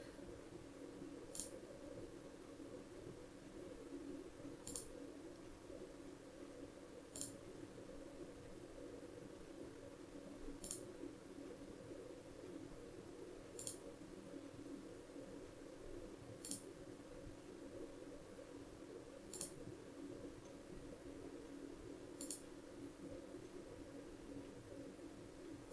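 Computer mouse clicking through settings in Houdini software: eight faint, sharp clicks spaced evenly about three seconds apart over a quiet, steady background hiss.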